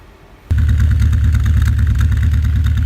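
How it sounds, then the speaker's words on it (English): A Honda engine cranking after a motor swap with the fuel pump off, starting abruptly with a loud, fast, even rhythmic chugging of the starter turning it over, close and continuous with no talking. "give it a crank with the fuel pump off"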